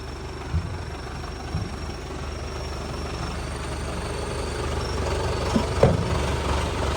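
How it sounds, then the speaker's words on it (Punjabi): An Agri Master tractor engine idling with a steady low diesel rumble and vibration, close and continuous throughout. "ਟਰੈਕਟਰ ਦੀ ਸਟਾਰਟਿੰਗ ਚੈੱਕ ਕਰੋ।"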